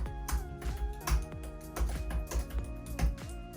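Typing on the small detachable keyboard of a Lenovo IdeaPad Duet Chromebook, a budget tablet: a steady run of soft, close key clicks over background music, with no talking.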